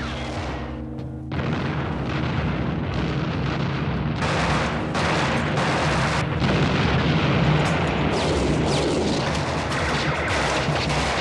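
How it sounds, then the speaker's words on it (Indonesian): A series of heavy explosions booms one after another, loud and close, with deep rumbling blasts filling the background throughout. "ia tertolong dengan dinamit-dinamit yang sudah mulai meledak satu persatu."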